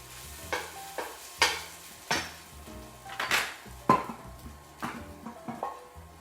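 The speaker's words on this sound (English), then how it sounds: "now into this I will be adding the diced tomatoes." Diced tomatoes from a can going into a pan for shrimp saganaki, with a series of sharp metallic clanks and scrapes of a utensil against the pan over a faint sizzle.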